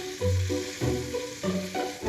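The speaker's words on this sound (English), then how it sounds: "sizzling away here." Lamb stew sizzling in a pan just after stirring, a soft, close frying crackle that swells and eases in short bursts with a low bubbling undertone.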